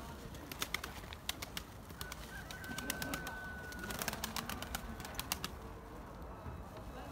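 Pigeons in a loft coo softly and low while sharp clicks and flutters from the birds crackle intermittently nearby, over a steady background hum, with no speech heard.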